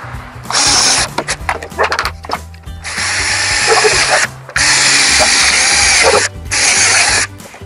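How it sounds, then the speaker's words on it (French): Power drill boring holes in wooden shutters being shortened, with several loud sustained bursts separated by short pauses and clicks, close up. "Donc nous allons percer un trou là, un trou là, un trou là pour y remettre la cheville."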